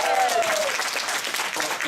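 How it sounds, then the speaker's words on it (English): Audience applause, a brief burst of dense clapping from a seated crowd, loud and close, with a short spoken voice heard over the start. "So can we give our products a round of applause?"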